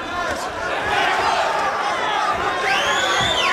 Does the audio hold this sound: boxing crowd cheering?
yes